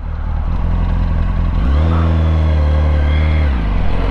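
Yamaha R1 sport motorcycle engine revving hard toward about 14,000 rpm, a loud close rising howl that holds high and then drops back, with no talk over it.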